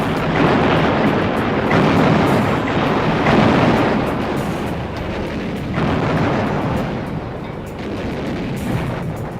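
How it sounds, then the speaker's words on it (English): A prolonged naval task force gun bombardment from 1945, loud and dense, with overlapping booms and rumbling blasts rolling continuously with no pauses. "the guns of the Naval Task Force began one of the most prolonged bombardments of"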